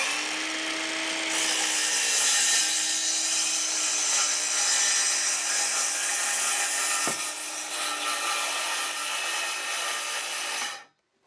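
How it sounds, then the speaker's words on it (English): A circular saw plunges into wood sheathing, one loud, steady whine of the blade cutting for about ten seconds before spinning down and stopping abruptly. "I'm just going to plunge into the wood"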